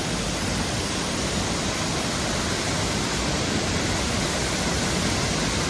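A monsoon waterfall dropping about 50 feet with heavy flow, a loud, dense, continuous roar of rushing water with no break.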